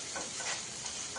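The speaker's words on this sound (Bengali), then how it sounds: "রসুন আর পেঁয়াজটা দিয়ে একটু ভালো করে ভেজে নেবো" Garlic and onion frying in a pan give a steady close sizzle that hisses without pause, with a faint scrape or stir partway through and no voices.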